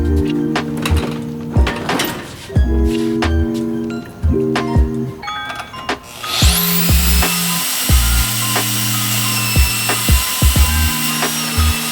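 Power tools cut into an old rear bumper structure on a Nissan 240SX S14, with choppy bursts of grinding and buzzing interrupted by short pauses, then a sustained loud high-pitched cutting whine in the second half.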